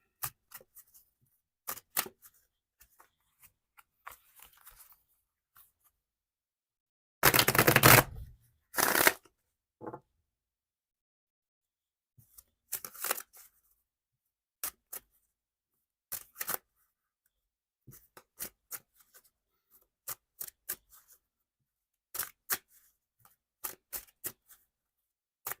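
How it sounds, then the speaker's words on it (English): A deck of tarot cards shuffled by hand during a live reading: scattered soft riffles and taps, with one long, loud riffle burst near the middle and more short card snaps afterward, close by and without talk. "All right, Misty, I think that's a good shuffle"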